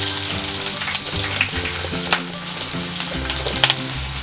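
Onions dropped into hot oil with cloves and pepper for donne biryani, frying in a steady loud sizzle with a few scraping stirs and clinks, a low background tone running underneath.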